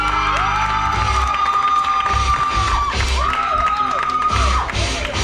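A crowd at an outdoor cycling presentation in French Guiana cheers, whoops and applauds the yellow jersey winner, loud and continuous, with an amplified announcer's voice and music ringing over the noise.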